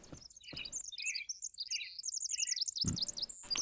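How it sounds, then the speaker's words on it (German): Forest birds in The Forest video game sing bright, rapid chirps and trilled whistles in quick overlapping phrases, fairly loud and near, broken by a few soft thuds and clicks of in-game movement, with no talking. "Ich liebe die Vögel im Wald."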